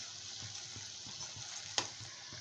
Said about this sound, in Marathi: तेलामध्ये भजी तळताना